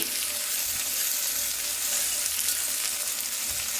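Mint and ginger fry steadily in hot oil for chicken pulao, giving a dense, even sizzle that holds at one level throughout with no voices.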